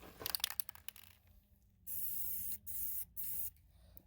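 A Krylon spray paint can with a larger nozzle sprays gloss orange in three close, steady hissing bursts, the first the longest, after some brief rattling and handling noise.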